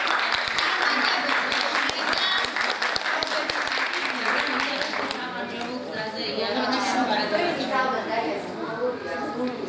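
A studio audience at a children's stage performance breaks into sustained, even applause, a dense wash of clapping that carries on for several seconds while a voice talks over it.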